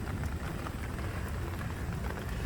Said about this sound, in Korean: 오늘 지금 비가 옵니다